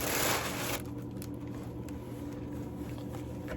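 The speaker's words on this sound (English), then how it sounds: "Purple tissue paper." Purple tissue paper rustling during an unboxing, a loud crinkly burst at the start that settles into softer, steady handling rustle close by.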